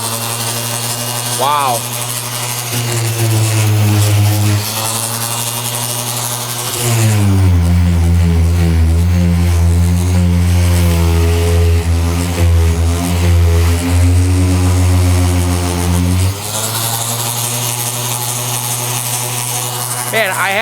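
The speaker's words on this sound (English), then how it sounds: "I think I'm going to take my sander, just come in here, see if we can sand some of that glue away" A power sander grinds away squeezed-out laminate glue on a Rock-Ola Jump Bug arcade cabinet, a loud steady whine that rises in pitch and intensity midway and then eases back, with a brief spoken exclamation.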